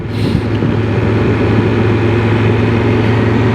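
A motorcycle engine hums loud and steady with a deep low drone on a ride at a festival, the revs holding even throughout with no talk.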